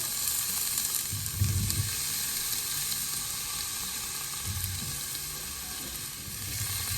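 White belly shrimp with mango, okra and saijan cooking in a pan, a steady close sizzle with bursts of stirring and scraping as the ingredients are mixed in, no talk.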